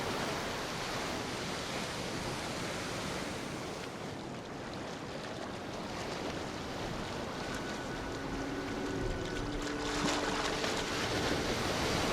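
Small, gentle waves wash onto a quiet sea lion beach, a steady hissing surf that stays close and even throughout, with no voices.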